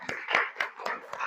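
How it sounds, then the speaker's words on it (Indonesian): Students in a classroom clap for group 1 in a few separate sharp bursts, roughly five scattered claps that sound thin and sparse rather than like full applause. "tepuk tangan untuk kelompok 1"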